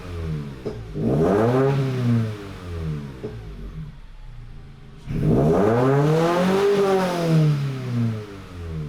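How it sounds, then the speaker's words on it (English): A Subaru BRZ with a JDL 4-2-1 header revs hard twice, each rise and fall of the flat engine loud and close with a gap between, slight pops on the decel. "it does have a little bit of a backfire"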